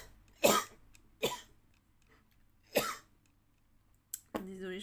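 Several dry coughs from a woman, spaced irregularly and fairly close, followed by the start of her speaking voice at the end.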